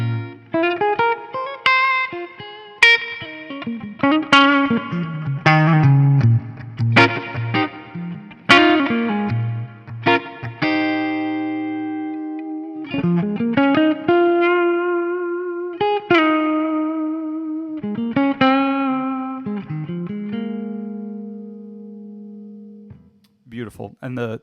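A Collings electric guitar is played on the neck pickup through effects, with sustained distorted notes and chords, chorus and reverb shimmer, and slides between phrases, loud and close.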